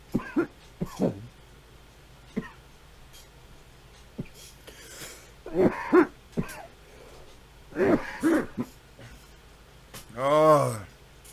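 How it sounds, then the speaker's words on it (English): A person coughs hard after smoking a full bowl of cannabis in one go, with several loud harsh coughs and throat-clearing bursts spread over the moment, close by, between short vocal sounds. "I coughed so hard"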